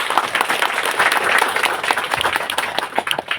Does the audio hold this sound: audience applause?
yes